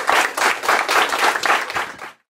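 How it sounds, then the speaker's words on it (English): An audience at a motivational speech claps and applauds for the coach, a dense and fairly loud burst of many hands that lasts about two seconds and then cuts off abruptly. "Y'all clap that up for Coach."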